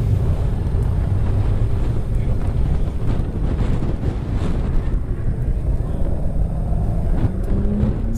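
A Chevrolet Corvette with a seven-speed manual is being driven on a windy day, its engine and road noise a dense steady rumble mixed with heavy wind buffeting the microphone.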